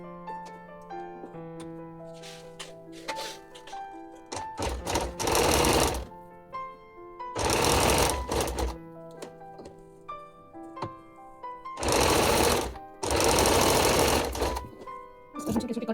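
A sewing machine stitches a kurti sleeve in bursts: several loud fast whirring runs separated by quieter pauses with faint handling sounds and a low motor hum, close by.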